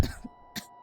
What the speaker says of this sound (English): That's the first time the voice actress actually coughed, though.